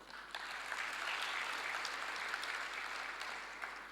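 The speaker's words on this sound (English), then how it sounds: "request that we give Zanaki Girls Secondary School a round of applause" A lecture-hall audience at an Africa Day lecture gives a school group a dense round of applause, with many overlapping claps swelling and then slowly fading, heard from some distance.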